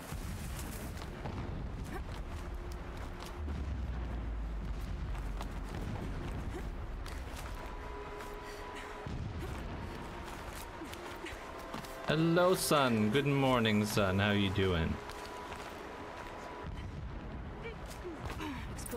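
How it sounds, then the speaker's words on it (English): Distant explosions rumble through a Horizon Zero Dawn game scene, low booms rolling under a voice talking in a friendly greeting, with a louder burst of noise and tonal game sound partway through. "Explosions in the distance."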